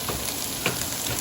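Leftover cooked rice added to a hot pan of sinangag fried rice with plenty of mix-ins, giving a short, steady, close sizzle with one small clack partway through.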